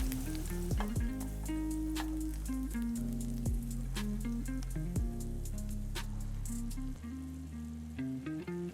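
Mozzarella-stuffed meatballs simmer in sauce with a soft, steady sizzle and faint bubbling, largely covered by loud rhythmic background music.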